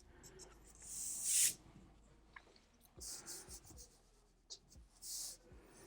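A pencil scratches across paper while a manga-style character is sketched, with short close strokes and soft rubbing in uneven bursts and quiet gaps between them.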